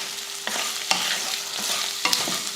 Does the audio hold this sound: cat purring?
no